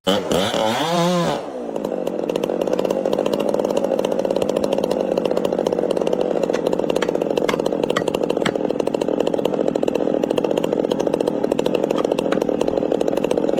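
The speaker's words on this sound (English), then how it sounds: "used a steel chainsaw to cut hard into the trunk of an ancient tree" A loud chainsaw revs up with a rising whine, then settles into a steady, continuous roaring cut into the trunk of an ancient tree that holds for many seconds.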